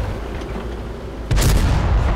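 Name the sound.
tank cannon shot in World of Tanks video game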